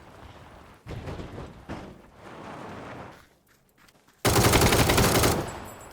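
Bursts of rapid automatic gunfire, a short pause, then a long sustained loud volley near the end, with no talking.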